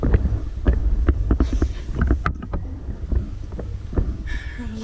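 A 1972 Kone V traction elevator runs with a steady low machine hum and rumble, marked by scattered clicks and knocks from the car and doors, moderately loud and close, with no talking.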